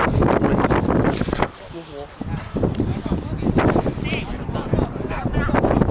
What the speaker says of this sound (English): That wind is vicious.